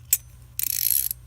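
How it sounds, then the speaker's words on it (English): A 9/16 socket wrench ratchets in two bursts, a quick click followed by a longer run of rapid pawl clicks, close and fairly quiet with no talk. "This is a 9/16 socket wrench."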